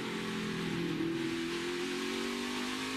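A NASCAR stock car engine revving under throttle on a qualifying lap, a continuous high-pitched whine rising slightly and holding steady, moderately loud and alone.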